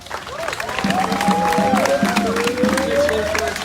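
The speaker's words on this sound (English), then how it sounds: "have another round of applause for a young man that is so courageous" Crowd at an outdoor street protest applauding and cheering, a steady wash of clapping with whoops and voices rising over it, fairly loud and sustained throughout.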